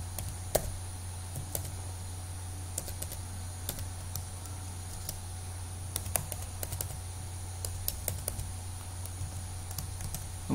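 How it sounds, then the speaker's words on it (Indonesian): Steady keyboard typing on a computer as an email address is entered, irregular clicky keystrokes running throughout over a constant low hum, close and moderately quiet, with no talking. "kemudian 2 kali kita ketik emailnya,"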